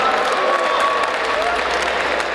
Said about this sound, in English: give a round of applause for the girls.